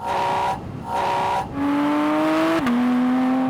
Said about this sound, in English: And then there's the engine noise.